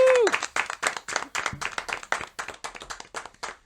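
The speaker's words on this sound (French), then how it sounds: "Qu'on peut applaudir." A small studio audience claps for a guest on a night-time show, a few hands making distinct, fairly close rhythmic claps that come quickly and evenly throughout.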